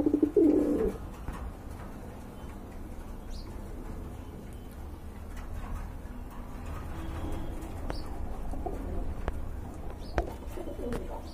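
Racer pigeons coo softly in a steady, low background murmur, with a louder burst of bird noise at the start and faint chirps scattered throughout.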